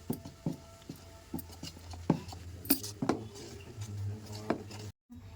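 Batter with a pinch of baking soda and fruit juice stirred in a bowl, heard as soft scraping and irregular clinks of a utensil against the vessel, close and fairly quiet, with no talking.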